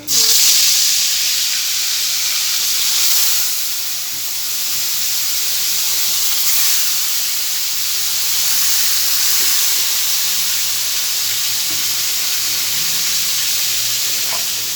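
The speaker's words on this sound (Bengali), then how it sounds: "পটলগুলো ভেজে নিচ্ছি, হালকা ভেজে নেব।" Pointed gourd (potol) frying in hot oil in a kadai, giving a steady, loud, broadband sizzle and hiss that runs unbroken throughout with only slight swells.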